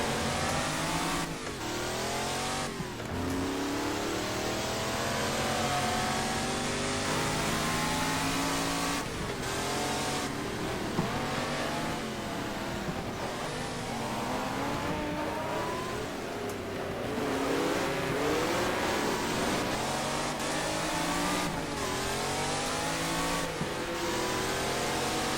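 A race car engine revs hard in the video game GT Legends, loud and continuous, climbing and dropping through the gears with repeated surges and brief shifts, alone without talk.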